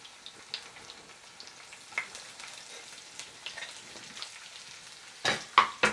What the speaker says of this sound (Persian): روغن پیاز که سرش مندازی زیاد سرصدا میکنه